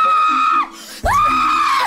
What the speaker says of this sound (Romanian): Uite și aia urlă!